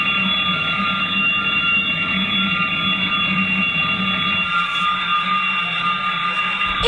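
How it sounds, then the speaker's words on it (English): An alarm sounds through the Big Brother UK house to wake sleeping housemates, a loud, steady electronic tone that holds unbroken over a low room hum. "Big Brother is playing an alarm into the house to wake up any sleeping housemates."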